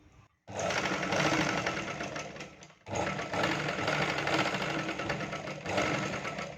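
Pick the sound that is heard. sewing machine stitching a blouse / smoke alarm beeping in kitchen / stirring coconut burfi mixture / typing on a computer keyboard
sewing machine stitching a blouse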